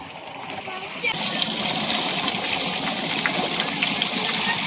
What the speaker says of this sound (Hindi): इससे आपको पता लगेगा कि पानी कितनी तेज गिर रहा है नीचे।